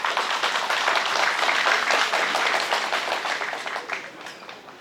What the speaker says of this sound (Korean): 박수로 듣도록 하겠습니다.